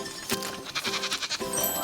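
A baby goat bleats in a burst of short, bright calls repeated over a couple of seconds, close by, on a rustic farm setting with no talking.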